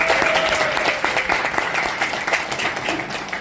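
An audience bursts into sustained applause to welcome a Global EDC leader onto the stage at a Daegu gathering, the clapping loud and dense throughout with no speech.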